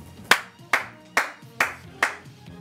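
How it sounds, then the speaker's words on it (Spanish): Sharp hand claps come one at a time at an even, unhurried pace, about five or six claps close by with short gaps of quiet between them and no talking over them. "Oh, lean los guiones, dice aplauso."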